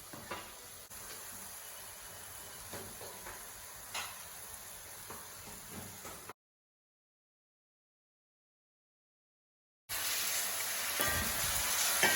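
Masala for kadala ularthiyathu sizzles and hisses steadily while sautéing in a pan, goes silent for a few seconds, then returns with a louder, brighter fry.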